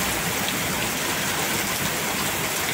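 Heavy rain pours down steadily at an outdoor construction site, a dense, even hiss with no break and no voices.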